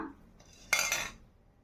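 A spoon scrapes and clinks in a pot while corn biryani is mixed with oil, fried onions and curd. One short metallic stir comes after a faint clink, close and quiet.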